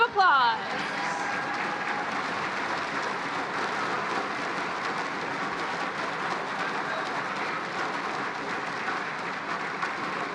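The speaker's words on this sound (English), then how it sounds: "Let's give them a round of applause." Audience applause at the MATHCOUNTS National Competition countdown round, a steady even wash of clapping that carries on for about ten seconds after a brief voice at the start.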